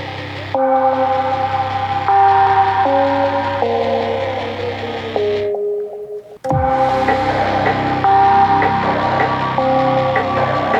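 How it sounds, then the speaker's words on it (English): A synthesizer playing a low bass line in sustained notes with layered tones, briefly dropping out near the middle before resuming loudly. "it's just a bass preset that sort of just sounds"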